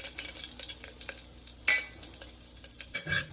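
Whole pulao spices hit hot oil in a pressure cooker for chicken biryani, crackling and sizzling up close with a few scraping stirs and a louder burst partway through.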